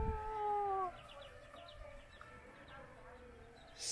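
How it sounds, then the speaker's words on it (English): Chickens and chicks near geese on a tea-country trip in Anxi, a drawn-out wavering call up front, then faint scattered chirps and clucks, moderately distant. "Oh, look at the chicks."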